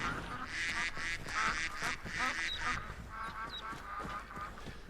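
A family of ducks in the Skyrim video game quacks repeatedly at close range, a busy overlapping chorus of nasal calls that keeps going without a break.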